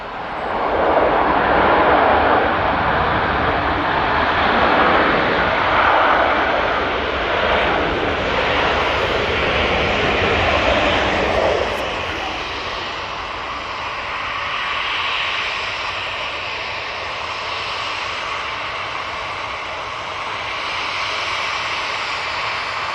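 Virgin Atlantic airliner arriving from JFK, touching down at Manchester Airport: a loud, broad engine roar for about the first twelve seconds that then drops to a softer, steady rumble as it rolls out.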